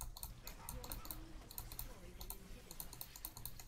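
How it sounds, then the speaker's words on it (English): Rapid clattering keystrokes on a computer keyboard, close and steady, with quick bursts of taps running throughout. "Oh wait, I'm typing."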